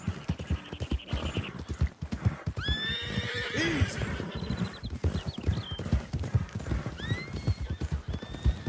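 A horse in a Western video game neighs and whinnies several times over steady clip-clop hoofbeats, close and clear, with brief bits of game ambience between calls.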